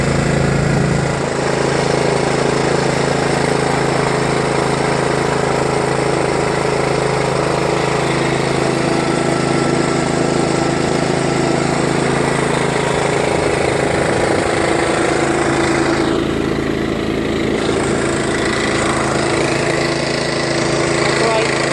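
A John Deere LA105 lawn tractor engine drones steadily and loudly while being ridden, a constant close mechanical roar with a slight shift in tone partway through, and a voice speaks faintly beneath the engine noise.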